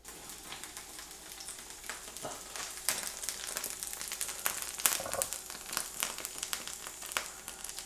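Meat coated in sugar-free barbecue sauce sizzling in the heat, with a steady frying hiss and scattered sharp pops and crackles close by, heard on its own.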